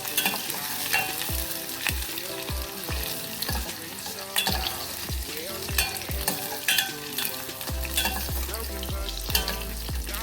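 Onions fry in a pan with a continuous loud sizzle and crackle, joined by repeated stirring and scraping and a rhythmic low thumping underneath.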